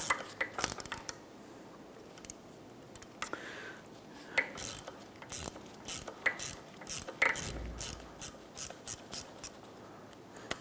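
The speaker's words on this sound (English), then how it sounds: "we'll go ahead and remove the nut and the washer off the top" A ratchet wrench loosens the nut atop a front strut assembly on a 2004–2008 Acura TL, giving bursts of quick metallic clicks with short pauses between strokes, fairly close and clear.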